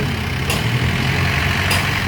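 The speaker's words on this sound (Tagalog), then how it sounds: "C240 ang makina niya ano guys." Isuzu C240 diesel engine idling steadily with white smoke, a continuous low rumble close by with brief higher hiss bursts.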